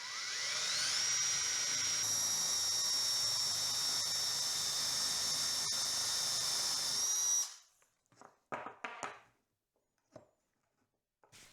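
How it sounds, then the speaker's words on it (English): A power drill with a 3/8-inch bit bores into a wooden base, giving a steady, close, high-pitched whine for about seven seconds. It then stops, leaving a few faint knocks and handling sounds. "drill down about 1/4 of an inch to 3/8 of an inch."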